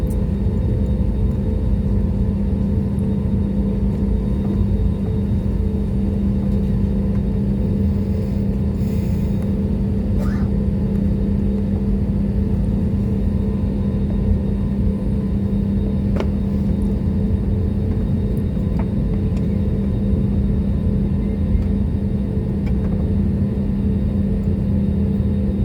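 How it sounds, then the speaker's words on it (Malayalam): A SriLankan Airlines jet taxis along the taxiway toward the runway at Cochin International Airport, heard as a steady low engine rumble and whir from inside, continuous and unchanging throughout. "ടാക്സി വേയിലൂടെ റൺവേയിലേക്ക് നീങ്ങിക്കൊണ്ടിരിക്കുകയാണ്."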